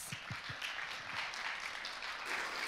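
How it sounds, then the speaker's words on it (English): Audience applause greeting a speaker at a tech meetup, a steady wash of many hands clapping at moderate distance, fairly even throughout with no voices over it. "Can we give him a round of applause?"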